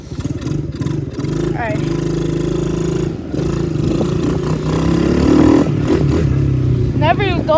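A Coolster engine runs steadily and fairly loud through a ride, revving up and down with a mechanical clatter, while a voice speaks briefly near the start.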